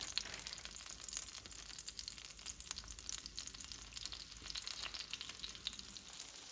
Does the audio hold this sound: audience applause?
no